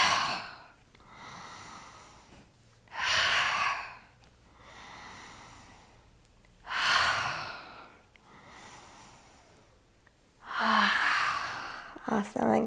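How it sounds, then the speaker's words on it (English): Slow, deep breaths during a yoga breathing exercise, with long airy inhales and exhales repeating about every four seconds, close and audible, with no talking. "Take a few long breaths."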